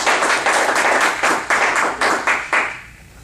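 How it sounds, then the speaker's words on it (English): An audience at a Toastmasters speech meeting applauds speaker Michael Brown, with fairly loud rhythmic clapping that fades at the end. "let's give him a big round of applause."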